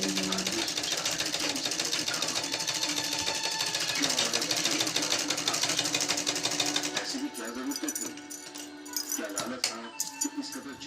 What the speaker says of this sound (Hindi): भाभी है अभी सिलाई करत है